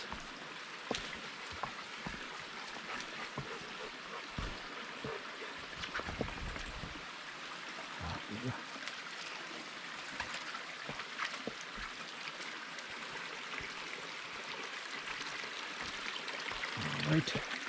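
A small stream runs beside a forested hiking trail in fog, a faint, constant trickle and gurgle heard from close by, with scattered footsteps and rustles.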